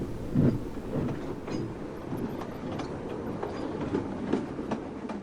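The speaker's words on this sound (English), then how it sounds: "The guard blew the whistle, waved the flag, and got into Clarabel as Thomas set off" A small tank engine pulling its coach sets off and runs along, giving a steady rumbling roll with regular clickety-clack beats from the wheels at moderate volume, with no voices.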